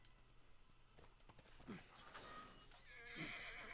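A horse neighs and whinnies close by, with hoof clatter and a brief snort around it, and other noises in the background, in the video game The Last of Us Remastered.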